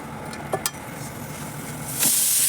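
Flattened rice (chire) is stirred in a hot pan with a couple of soft scraping taps, then a steady sizzling hiss rises and holds.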